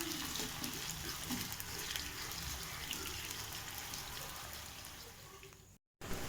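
Raw banana slices shallow frying in a pan of oil for a spicy banana fry, a dense steady sizzle and crackle close by, then a brief cut to silence near the end.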